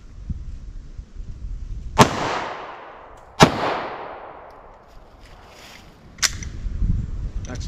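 Two sharp, loud gunshot cracks from a 9mm Gold Dot round fired into wood, each with a long decaying echo, followed by a third fainter report near the end, outdoors.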